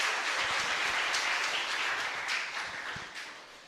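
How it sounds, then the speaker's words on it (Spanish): A congregation claps during a Catholic Mass in a parish church, a dense sustained wash of applause that holds steady and then slowly fades toward the end, with no voice over it. "Fuerte aplauso entonces para el Señor."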